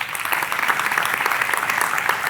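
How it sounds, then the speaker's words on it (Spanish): Church congregation applause during a sermon, a dense, even wash of many hands clapping close by and filling the whole short stretch without talk. "Bien dado el aplauso."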